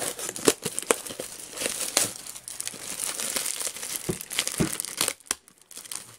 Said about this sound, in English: Just rip that open and